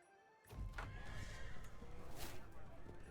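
Horse neighing during a horse race event in Crusader Kings 3, set in Japan, a single whinny that cuts in abruptly and fades, with background noise and a voice talking underneath.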